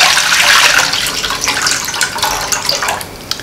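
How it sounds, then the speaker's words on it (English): Tap water running steadily into a cooking pot for boiling pastelles, a loud close rushing splash that gently shifts in tone as the pot fills. "Fill the pot with about 8 cups of water over high heat."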